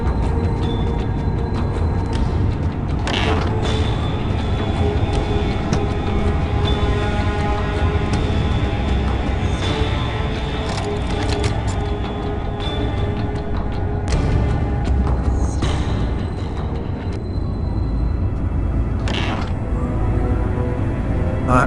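A door creaks open in the video game Fahrenheit, a long drawn-out groan under a steady bed of ambient game noise, with a few sharper mechanical clicks along the way.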